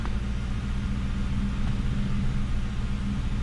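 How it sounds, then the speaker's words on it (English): Climate control blower motor in a Ford Crown Victoria or Mercury Grand Marquis with automatic temperature control, running as a steady low rumbling whir with a constant airy hiss, unchanging throughout. "we'll see if we got functioning blower motor again"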